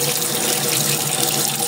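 Water from a tap pours steadily into a powdered medicine mixture, a continuous bright splashing stream filling the whole short stretch with no talk.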